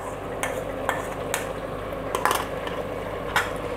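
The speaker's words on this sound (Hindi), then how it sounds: "इस स्टेज पे इसमें डालेंगे टोमेटोस।" Blended tomato puree being added to boneless chicken frying in a handi and stirred, giving a steady low sizzle with repeated scraping stir strokes and occasional clinks of a utensil against the pot.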